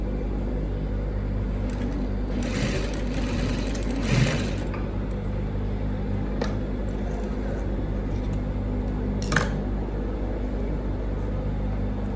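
A sewing machine hums steadily, stitching down a seam on dress fabric for a twist-knot front dress, a continuous close motor drone with a few faint clicks and no talking.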